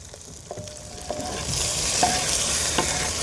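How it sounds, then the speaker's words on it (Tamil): Garlic and finely chopped tomatoes sautéing in a pan for a Kerala-style dry fish curry, with a steady close sizzle and periodic stirring scrapes that swell louder partway through. "பொடிசு பொடிசாக வெட்டி வச்ச தக்காளி நல்லா வதங்கட்டும்"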